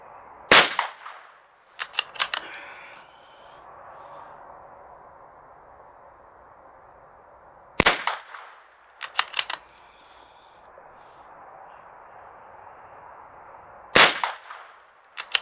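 Three loud, sharp rifle shots from a Mk II rifle, fired several seconds apart outdoors. Each crack is followed by a quick flurry of clatter and a fading echo.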